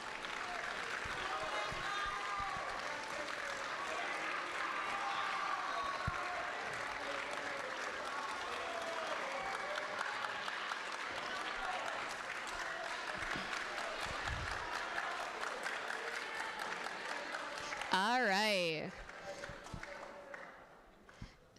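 An audience at a middle school awards ceremony for seventh and eighth graders applauds steadily in a large room for around twenty seconds, and a few voices mix into the clapping.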